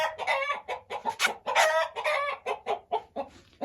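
A large yellow breeder rooster, an old Aseel fowl from Mianwali, gives a rapid string of loud, close clucks and squawks with a brief crowing-like call in the middle, no talking over it.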